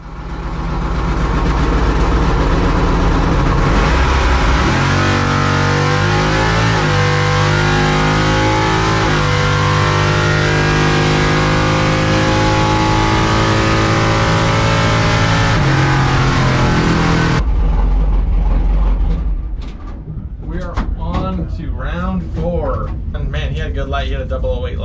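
A drag racing truck roars loudly down the strip at full throttle, a sustained engine howl rising in pitch for about seventeen seconds before cutting off, followed by talking.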